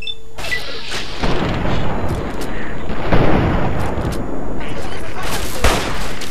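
Game gunfire in Fallout 3 crackles in a dense, sustained barrage of shots and booms, ending with a headshot, loud and close throughout with a voice briefly under the din.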